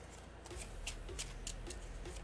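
A deck of Marvel Champions cards is shuffled at close range, with a quick series of crisp riffling snaps and flutters over a quiet background.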